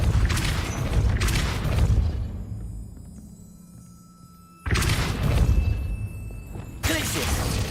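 Depulso force-push spell in a Hogwarts video game, heavy booming bursts of crashing impact noise that cut off into a brief lull before more blasts return, loud and close.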